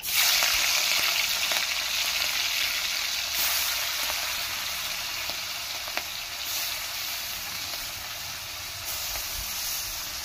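Prawns frying in hot oil make a loud, continuous hissing sizzle close by, easing slightly in intensity over time with occasional small pops.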